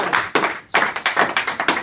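A small group claps hands in brisk, uneven bursts, with a short lull partway through before the clapping picks up again, close and fairly loud.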